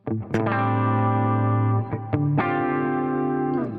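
Electric guitar with a humbucker in the bridge position, played through a Bluesbreaker low-gain overdrive pedal: a few sustained distorted chords ring out loud and alone, each held and then changed with a brief pick attack.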